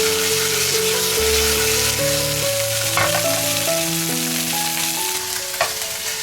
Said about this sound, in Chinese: 下面我把这2条鱼放到锅里